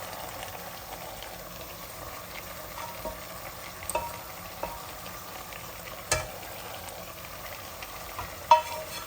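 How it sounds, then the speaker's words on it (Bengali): Tilapia pieces fry with radish in a pan: a low, steady sizzle with occasional soft stirring scrapes and a few sharp clinks near the end, no talking. "এখন মাছগুলা দিলাই এই যে মাছ আমি এলা দিলাই"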